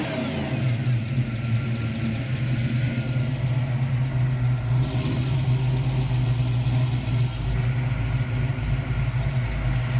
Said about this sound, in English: Let's wrap the throttle a couple times.